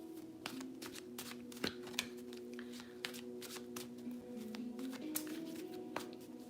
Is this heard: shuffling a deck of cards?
yes